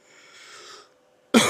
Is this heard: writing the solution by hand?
no